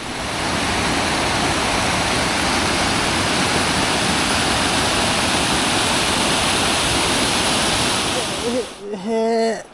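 A waterfall trickles into a shallow brook in the snowy Kinsman Mountains, a loud, steady rush of close water filling the scene before fading, with a brief voice at the end.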